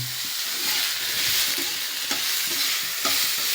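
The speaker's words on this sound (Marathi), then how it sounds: "कढईमध्ये कांदा ठेवलेला आहे" Onion sizzling in a hot kadhai with turmeric and salt, a continuous close frying hiss with soft stirring scrapes.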